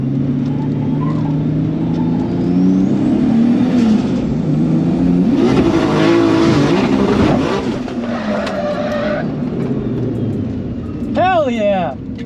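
A Nissan Safari GTR drifting in all-wheel drive, its engine revving and surging through rising and falling pitch sweeps with tyre scrub, then a sharp whine near the end; voices sound over it.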